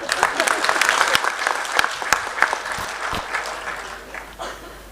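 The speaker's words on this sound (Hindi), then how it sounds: "तालियां कम बजी महिलाओं के लिए।" A crowd at a political rally claps for the women being praised, steady dense applause that swells early, holds, then thins out toward the end, with a voice faintly audible underneath.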